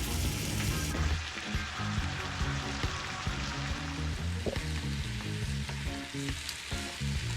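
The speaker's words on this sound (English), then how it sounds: "Allow it to fry a bit and release its own juices" Oxtail meat frying in its own juices in a pot, a loud, dense and continuous crackling sizzle with occasional stirring, close up and alone.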